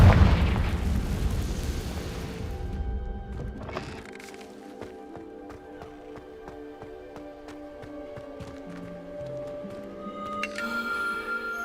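A Confringo fire spell bursts in Hogwarts Legacy, a loud booming explosion at the start that rumbles and fades over a few seconds into a steady musical game score.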